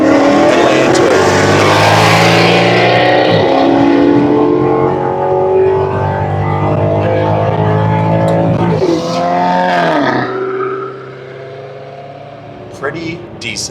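A Maserati GranTurismo S with custom megaphone test pipes and a tune, in sport mode, downshifts and revs hard with a loud, rising and falling engine roar and crackle, close by, fading near the end.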